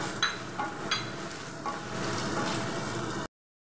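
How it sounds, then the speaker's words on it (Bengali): Chopped tomato sautéing with garlic, ginger and onion in a pan gives a close, steady sizzle, with a few spoon scrapes and clicks before the frying grows denser and then cuts off abruptly. "রসুনটা কিছু সময় কষিয়ে নেব।"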